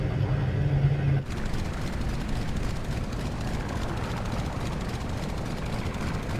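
A Pasped Skylark model plane flies steadily overhead, its small motor droning as a continuous, fairly loud hum after a brief louder burst at the start, with no talking.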